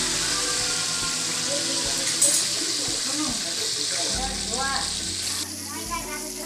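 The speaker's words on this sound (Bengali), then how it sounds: "সবগুলো এভাবেই ভেজে নেব" KFC-style popcorn chicken deep-frying in hot oil, a steady close bubbling sizzle with occasional louder pops and a light splash partway through, with a voice in the background.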